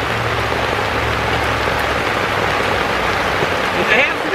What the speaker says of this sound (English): the rain is starting to really come down hard